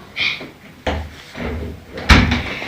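An indoor door being opened, with a few knocks and clunks of the handle and frame spread over under three seconds, the last impact loudest, close by.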